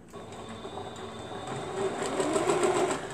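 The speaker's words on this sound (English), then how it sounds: "We're going to sew it down." A sewing machine stitching down a mat runs in a steady mechanical whir with rapid needle rhythm, growing louder and busier toward the end, with no talking.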